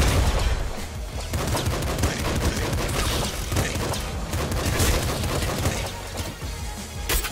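Assault rifle fire in Nuclear Throne, a dense, continuous run of rapid shots mixed with explosive booms, loud and close across the whole stretch.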